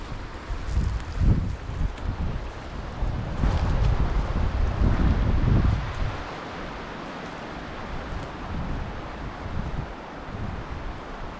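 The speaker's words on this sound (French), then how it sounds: "Le problème qu'on a, c'est ce vent qui nous empêche d'entendre" Strong wind buffets the microphone in rumbling gusts, loudest in the first half, then settles into a steadier low rush.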